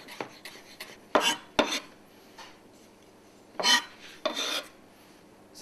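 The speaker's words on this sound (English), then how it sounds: "Do a quick chop." Fresh parsley chopped with a knife on a board: a handful of sharp, close strikes and short scraping rasps spread unevenly over quiet kitchen room tone, with no voices.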